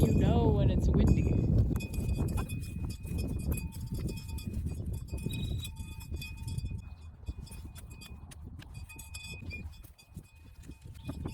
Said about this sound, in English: This is the bell you're hearing. It's so loud so that you know when it's windy.